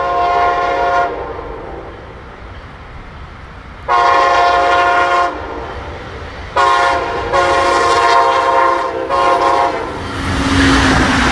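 Brightline SCB-40 locomotive with a Cummins QSK-95 prime mover sounds its K5LA horn in Train Sim World 2, loud sustained blasts in a long-long-short-long pattern over engine rumble and clattering rails.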